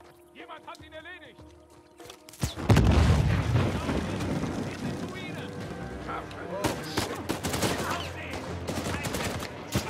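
Loud gunfire bursts and booms from a sniper and combat in Uncharted 4 erupt suddenly after a quiet stretch, continuing as a dense, sustained barrage of shots and explosions with a voice shouting over the action.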